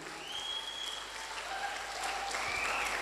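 Steady, dense audience applause fills the hall at a motivational talk, many hands clapping continuously at a moderate distance, with faint tonal squeals from the sound system drifting over it.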